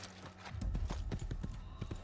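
Horse hooves clip-clop in a steady rhythm in the video game Assassin's Creed, close and fairly loud, with a few sharper knocks among the repeated beats.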